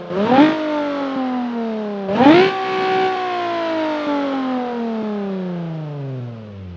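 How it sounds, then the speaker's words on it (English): A modded car in BeamNG.Drive fitted with a Nissan VQ engine revs up twice in sharp climbing bursts, then settles into a long, steady, slowly falling engine tone. The sound is loud and clear with no talking over it. "Nissan's VQ engines sound pretty much exactly like that"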